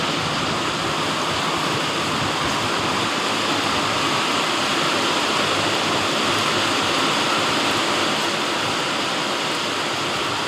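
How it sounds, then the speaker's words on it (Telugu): Heavy rain pours down in a village, a dense, steady hiss of water that stays loud and unbroken throughout, with no speech. "మా ఊర్లో అయితే పెద్ద వర్షం పడుతుంది"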